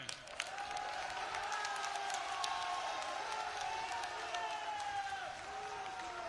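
A crowd at an outdoor public rally in Amethi stands and claps to welcome the chief minister, a broad, continuous wash of applause with scattered cheers, fairly distant and steady throughout.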